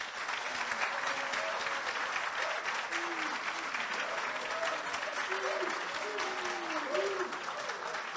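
Sustained, dense applause from a crowd at a political gathering for president Cheikh Tidiane Thiam in Côte d'Ivoire, steady and loud throughout with faint voices calling out underneath.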